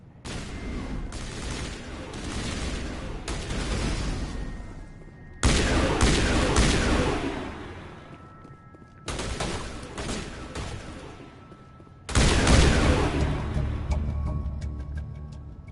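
Gunfire in Mass Effect 1 Legendary Edition on PS5, four loud volleys of rapid shots, each starting abruptly and fading out before the next burst.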